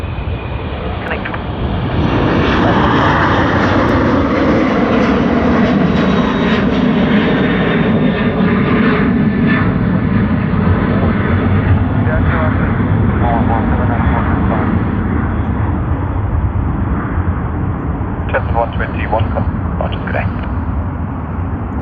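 DHL aircraft at Sydney Airport, its engine a loud, continuous roar and whine that holds steady for the whole stretch, with radio talk from air traffic control heard over it.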